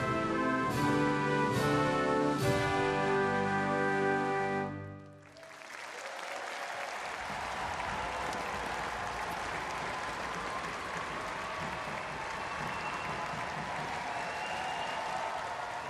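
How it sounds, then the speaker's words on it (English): A crowd at a track cycling velodrome during a World Cup meet in Glasgow breaks into loud, sustained applause and cheering. It starts after a few seconds of clear electronic tones and then fills the hall in a dense, even roar. "gives them a big round of applause."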